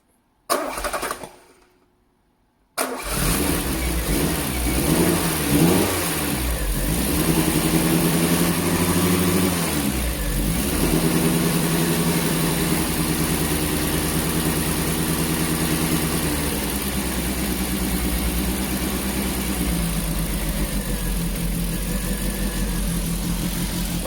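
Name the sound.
car engine starting and revving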